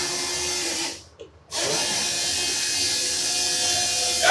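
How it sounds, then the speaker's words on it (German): Electric fuel pumps run in a fuel injection system being plumbed and filled with ethanol, a steady mechanical whir and buzz that drops out briefly near the start, then resumes and holds steadily close by. "Ja, die Pumpen laufen schon."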